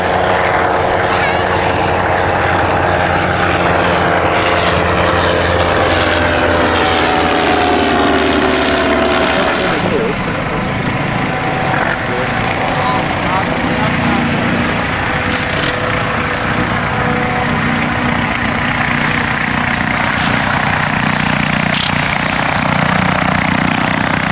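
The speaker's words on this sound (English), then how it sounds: "Here the quite distinctive noise of a rotary engine, the blip switch, actually turns the ignition on and off" A rotary aircraft engine drones loudly with a rough, pulsing note, cutting in and out as the blip switch turns the ignition on and off, at the Shuttleworth Collection.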